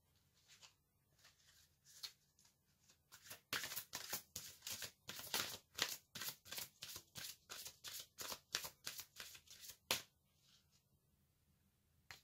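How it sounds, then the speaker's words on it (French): Tarot cards shuffled and drawn from a deck, a rapid run of crisp, close card flicks and snaps building to a dense burst in the middle, then stopping abruptly, with no talk. "Je vais tirer une seconde carte pour compléter cette énergie."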